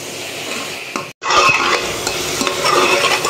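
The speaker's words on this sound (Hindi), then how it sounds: "फ्राई करते करते कुछ इस तरह से हमारा मशरूम हो चुका है" Mushrooms frying in a pan while being stirred, a steady close sizzle with scraping of the utensil and a brief pause partway through, loud and without talking.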